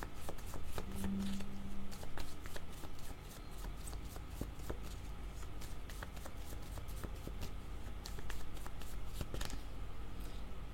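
Cards being shuffled and handled for a tarot-style reading, a long run of soft riffling and crisp flicking taps up close, fairly steady with small pauses, no voices.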